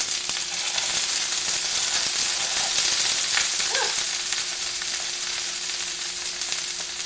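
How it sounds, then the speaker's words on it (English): Vegetables stir-frying in a hot oiled pan, a loud, bright, unbroken sizzle close up with faint clicks of spreading and occasional spitting oil. "I'm going to get a cup of vegetables. Again, filling it all the way to the top. And I'm just going to spread those evenly out in my pan."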